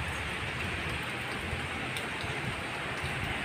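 Steady rain pours down outdoors near buildings and a playground during a thunderstorm, a dense, even hiss that fills the scene without break.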